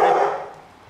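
A dog gives a single loud, close bark in a garage during repair work on an Opel Astra cylinder head, the sound fading quickly afterward.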